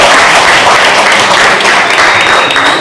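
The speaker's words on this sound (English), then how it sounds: "everybody give him a round of applause" Workshop audience applauding loudly and steadily throughout, a dense wash of many hands clapping close by with no talk over it.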